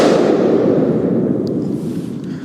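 A Desert Eagle .50AE pistol shot booms loud and close, its broad blast decaying into a long reverberant tail with a faint clink partway through.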